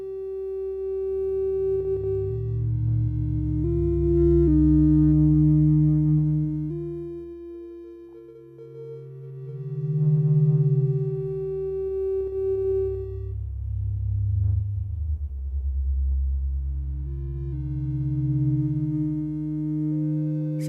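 Mellow, melodic frequency-modulation tone from a SonicLAB Fundamental synthesizer, with sustained pitches that glide and step as the modulation rate changes, steady and fairly loud throughout with no voices.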